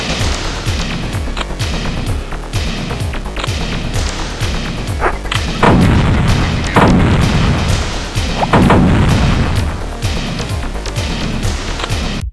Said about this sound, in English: launch all the rockets, missiles, and fireworks